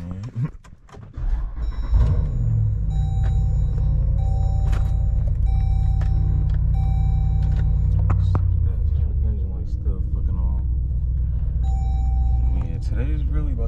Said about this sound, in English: I'm just trying to start this bitch with no key.